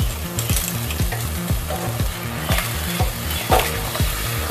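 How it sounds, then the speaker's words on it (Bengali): Boiled onion paste sizzles in a pan while being stirred for shahi malai paneer, a dense frying crackle with rhythmic scraping strokes repeating roughly every half second, close and loud, no talking. "জাস্ট অল্প নাড়াচাড়া করবো যাতে কাঁচা গন্ধটা চলে যায়"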